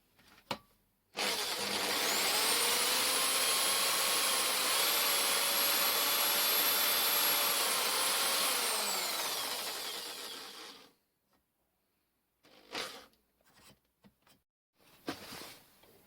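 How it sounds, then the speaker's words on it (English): Drilling and reaming a hole in a piece of metal rod while building an endmill grinding attachment. A loud, steady machine whine runs for about ten seconds, then cuts off, leaving a few brief knocks and clicks. "This hole is then widened and finally reamed to size."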